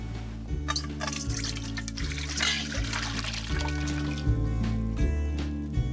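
Tea is poured from a container into a bowl, a short splashing liquid stream heard close up against a steady low background hum, with no voices present.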